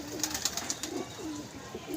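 Pigeons at a pigeon club coo softly in short repeated phrases against a faint background. Bright chirps come from other birds nearby.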